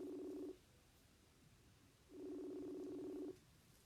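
Phone call ringback tone heard in two bursts, one short at the start and a longer one after a pause, steady and moderately clear with no talking.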